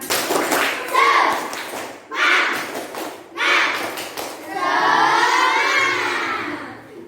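A class of schoolchildren performs a rhythmic spirit clap, loud bursts of group clapping in short patterned bouts separated by brief pauses, ending in a longer sustained stretch with children's voices chanting along.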